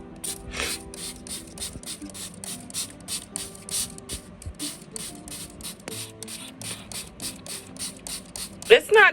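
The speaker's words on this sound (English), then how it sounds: "So let me spray in my compost accelerator." A hand sprayer squirts compost accelerator onto indoor bokashi compost in a quick series of short hissing bursts with small mechanical clicks from the trigger, close by, with a brief bit of talk at the end.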